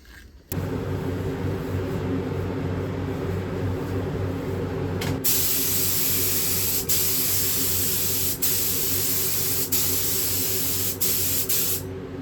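A spray can lays a light tack coat of clear coat on a custom-built guitar, a steady loud hiss of aerosol in a few long passes separated by brief breaks.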